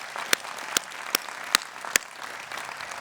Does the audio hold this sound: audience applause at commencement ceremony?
yes